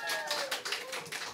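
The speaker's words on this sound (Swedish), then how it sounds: "Bra att ni applåderar." Studio audience at a Swedish stand-up comedy show clapping briefly, a dense burst of hand claps lasting about a second and a half.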